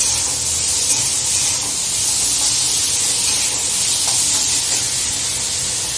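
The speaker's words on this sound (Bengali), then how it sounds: "এটাকে আগে একটু সাথে নেড়ে নিই।" Vegetables with tomato sauce sizzle and hiss loudly in a frying pan while being stirred, a steady close continuous fry noise.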